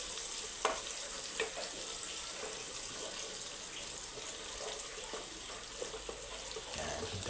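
Beef with plenty of aromatics frying in a pan, a steady, faint sizzle with scattered stirring taps and small crackles, heard close and without talk.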